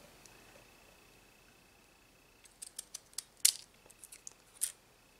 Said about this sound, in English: I am using my zigzag scissors. And I'm just taking them and cutting along the edges